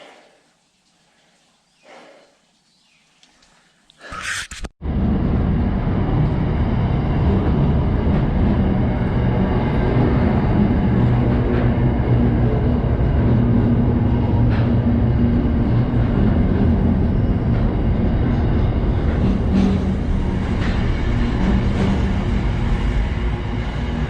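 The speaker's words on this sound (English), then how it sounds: "I get to the train station just as a freight train's rolling through" A freight train rolls through a railway station, a loud continuous rumble and rattle of wagons that starts abruptly after a few quiet seconds and holds steady to the end.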